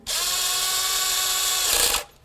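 Power tool snugging the valve cover bolts on a 1998-2002 Honda Accord, one steady high-pitched whir lasting about two seconds, close and loud, ending with a brief rising burst as the bolt seats.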